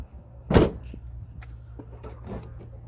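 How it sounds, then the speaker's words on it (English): A car door on a 2010 Toyota Land Cruiser Prado GX 4x4 diesel swings shut, not quite smoothly, landing as one close, solid thud followed by a few faint clicks and rattles. "The door is getting closed, not very smoothly, to be honest."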